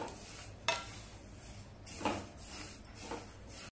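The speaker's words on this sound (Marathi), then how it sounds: "तीळ सुद्धा आपल्याला छान गवळे गवळे भाजून घ्यायचे, फार करपू द्यायचे नाहीत आणि एकसारखे हलवून घ्यायचे" Utensil scraping and stirring sesame seeds as they dry-roast in a pan over low heat, a few soft close scrapes and light taps spaced out over quiet background hiss.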